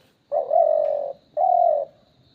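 Spotted dove, a tame hunting decoy bird held in the hand at dawn, giving two close, clear, low coos, the first longer than the second, with quiet around them.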